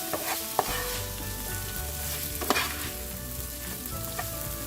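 Spicy pork with potatoes sizzles steadily in a pan. A few light spoon clinks come through as the dish gets its last toss, with the sound close and continuous and no talk.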